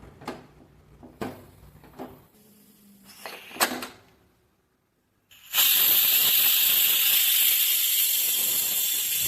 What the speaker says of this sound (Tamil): குக்கரை மூடி போட்டு ஒரு 6 விசில் விட்டு எடுத்துக்கோங்க.